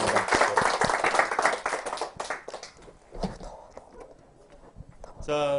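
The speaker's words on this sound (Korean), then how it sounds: "여러분 오늘 아주 뜨거운 강연 펼쳐주신 프로파일러 이주연 씨에게 다시 한번 큰 박수 부탁드립니다" Applause from the audience at a youth talk concert after a police profiler's lecture in a school hall. Dense clapping fades into scattered claps while a voice talks over it.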